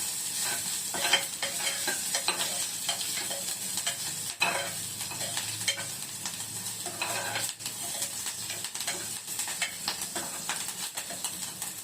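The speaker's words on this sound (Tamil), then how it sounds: "சீரகெல்லாம் நல்லா இப்படி பொரிஞ்சு வந்திருக்கு." Cumin seeds, pepper and curry leaves sizzle and crackle steadily in hot oil in a pan, with stirring scrapes throughout, close and fairly loud, no talk.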